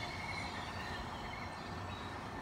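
A train rolls past near a transit center, a faint, steady rumble of rail cars with light wheel noise, heard from some distance and without talk.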